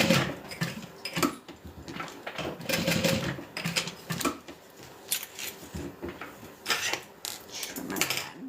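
A sewing machine stitches a backpack in uneven bursts of rapid mechanical clatter, with short pauses between runs, close and moderately loud.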